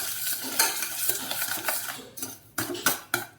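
Egg yolk and sugar are stirred by hand in a bowl, close rhythmic scraping and clinking strokes with brief pauses between them.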